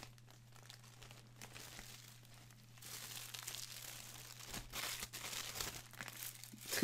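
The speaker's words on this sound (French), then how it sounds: "Ok donc on déballe tout ça." Plastic packaging from a mystery parcel crinkling and tearing open as a t-shirt is unwrapped, soft and close, building from quiet rustles into louder, busier crackles toward the end.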